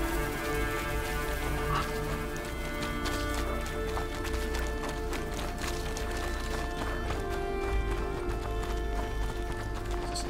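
Horse hooves clip-clop steadily through a medieval plague-era scene in the game A Plague Tale: Innocence, a continuous running gait over a dense bed of rain and ambient music, with no talk.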